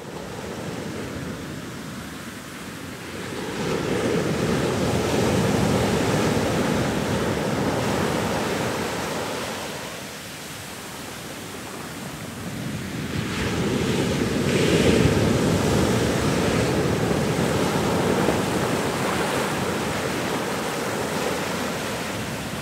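Waves washing onto a beach shore under gusting wind, surging and receding in two broad swells of roaring noise, loud and close with wind buffeting throughout.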